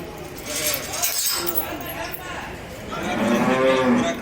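A cow moos loudly and close by at a busy livestock market in Akhisar, Manisa, where cattle and Simmental calves are traded. People talk over the noise and something clinks faintly.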